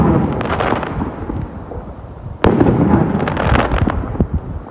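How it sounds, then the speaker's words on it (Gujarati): Fireworks burst during Christmas and New Year celebrations in Poland, a dense, continuous crackle of rapid pops and booms with one sharp, loud bang midway, heard outdoors and fairly close. "પોલેન્ડની દિવાળી હવે આ ધડાકા હારા હતા"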